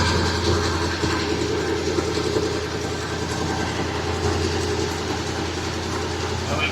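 1967 Chevy truck engine running off its own fuel tank, a steady close idle rumble holding evenly throughout with no talk.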